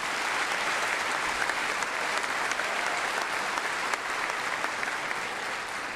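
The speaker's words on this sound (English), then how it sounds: "Please join me in a round of applause, please." At a college commencement, a large audience claps in a loud, continuous, even roar that stays steady throughout the six seconds.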